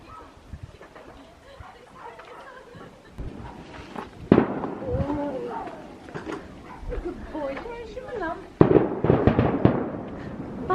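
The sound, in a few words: fireworks display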